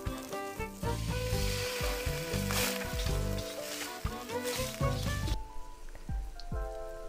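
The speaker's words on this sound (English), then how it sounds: "Next, we're going to add our yakisoba noodles." Yakisoba noodles hit a hot griddle and crackle into a steady sizzle, heard beneath fairly prominent tonal background music that drops away near the end.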